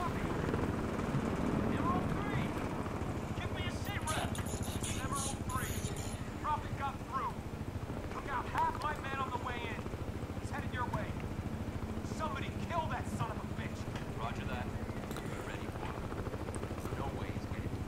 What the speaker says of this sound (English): Am I gonna have to take on this helicopter at some point?